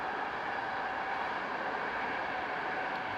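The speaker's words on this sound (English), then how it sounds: "We hear a train go past." A train passes near a cricket ground in Hungary, producing a steady, loud rumbling roar that holds evenly throughout without breaks.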